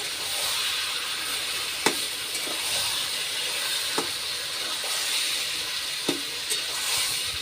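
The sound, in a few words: hilsa fish being stirred with turmeric in a frying pan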